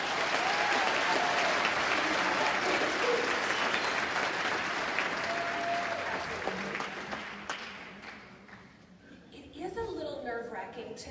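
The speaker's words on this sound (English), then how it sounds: "Give them another round of applause." A large audience at a 2019 convocation claps in a dense, steady burst that fades after several seconds, and a speaker's voice then takes over.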